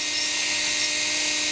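A power drill runs on high speed, boring into the tail of a model airplane, giving a loud, steady, unbroken whine from start to finish with no talking.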